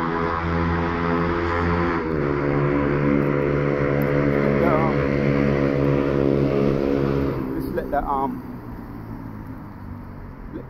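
Loud buzzing engine drone from passing motorbikes, steady and continuous, with pitch shifting as they go by and fading a little toward the end.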